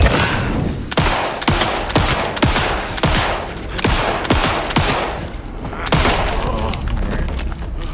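Gunfire in the video game Alan Wake 2 comes as a loud, close barrage of sharp shots in an uneven rapid rhythm, each blast trailing into boomy decay, with a faint voice in the background.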